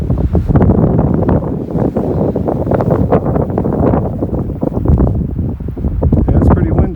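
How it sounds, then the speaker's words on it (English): Strong wind buffets the microphone in a winter forest in Kananaskis, a loud continuous rumbling roar with gusting swells and rustling throughout, rising and falling without a break. "Yeah, it's pretty windy."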